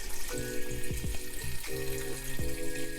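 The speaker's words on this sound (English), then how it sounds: "So I'm just going to fill this with water." Tap water pouring into an Instant Pot to cover lima beans, a steady close splashing stream with small gurgles and shifts in flow over a few seconds.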